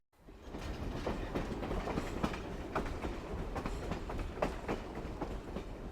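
An excursion train rolls along the rails with rhythmic clickety-clack of wheels over joints, a steady rumbling run heard from close by.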